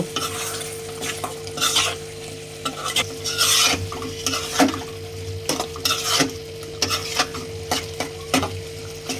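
Malabar spinach and shrimp curry being stirred in a pan, a spoon scraping and clacking against the metal in repeated strokes over a steady low sizzle, close and fairly loud, with no talking.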